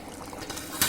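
Water pours into chicken curry in a pan, a brief close splashing gurgle that swells at the end.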